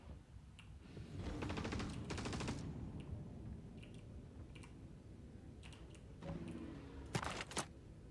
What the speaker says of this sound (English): What are they firing at? There's nobody alive.